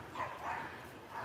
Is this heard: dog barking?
yes